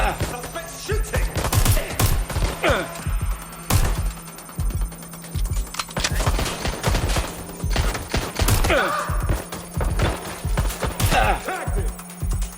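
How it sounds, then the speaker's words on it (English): Bursts of gunfire ring out in the video game Watch Dogs Legion, sharp repeated shots in quick clusters with short gaps, loud and close, alongside game sounds. "Shots fired! Oh my god! This has gone completely tits up! Suspect shooting!"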